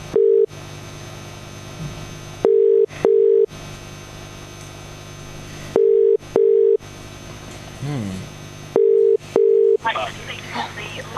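A telephone ringback tone plays during a call transfer: regular paired beeps repeat over a steady hum, loud and close, with faint background noise between the tones.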